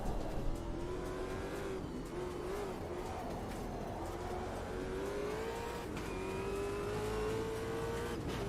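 Race car engine in Automobilista 2 holds a steady sustained tone, rising and dipping slightly as it shifts and revs, with faint tyre noise underneath and no talking.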